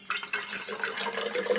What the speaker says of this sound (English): Of course, you just fill the bottle up with water.